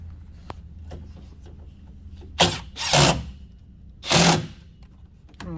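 A factory screw is driven into a fender flare on a Kawasaki Teryx 4, with three or four short, loud whirring bursts of a power driver over a quiet background and a few faint clicks between them.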